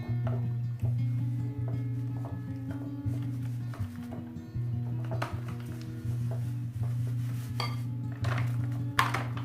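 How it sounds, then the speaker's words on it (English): A spoon clinks and taps steadily against a bowl while banana bread batter is stirred, a close, repeated metallic clatter over a constant low hum. "I like to stir and add at the same time."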